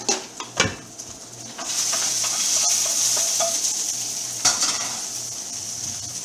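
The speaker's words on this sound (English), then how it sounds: "I need to stir my stir fry" A stir fry sizzles in a pan, with clattering utensil scrapes and stirring at the start, then a steady loud frying hiss, and another scrape near the end.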